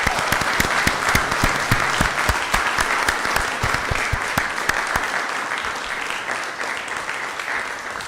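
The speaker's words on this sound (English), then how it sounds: "Round of applause." Applause rings out at a council meeting for a Little League 12-and-under all-star championship team, a loud, sustained crowd of clapping hands in a room that carries on steadily for several seconds before easing slightly.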